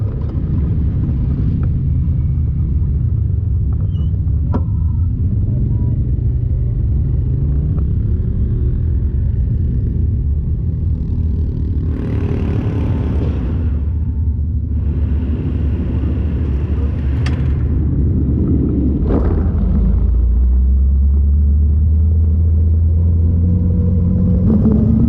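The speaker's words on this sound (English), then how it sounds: "Four cylinders buzz their way around the track." Four-cylinder midget race cars circle the dirt track at Bloomington, Indiana, a loud, continuous engine drone with rising and falling surges as the cars pass close by.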